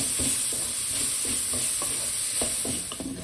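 Boiled potatoes for samosa filling, seasoned with black salt and salt, fry in a pan with a continuous sizzling hiss and a few soft stirring scrapes and taps.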